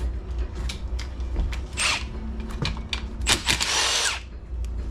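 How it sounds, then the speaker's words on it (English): A power drill with an 8mm socket takes screws out of a Yamaha Zuma 125cc scooter's transmission case, with several short, loud whirring bursts between quieter gaps and light clicks; no talking. "I take an 8mm, start taking the old screws out of the case."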